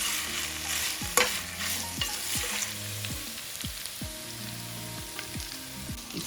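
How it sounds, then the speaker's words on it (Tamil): Pasta with bacon and chilli flakes stirred in a frying pan, a steady close sizzle of frying under repeated scraping sweeps of a utensil across the pan, each stroke sounding about once a second, with no talk. "இப்போ இதை ஒரு கிளறி விடுவோம்."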